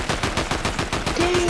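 A pistol fires in Fortnite, eight or so sharp shots in a fast regular rhythm, loud and near, with a brief tonal game sound near the end.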